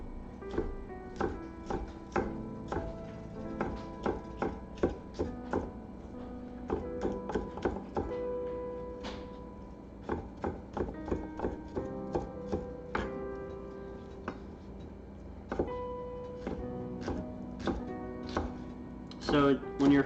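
A knife chops vegetables for black bean burgers on a cutting board, with repeated close, sharp taps in irregular bursts alongside a voice talking throughout.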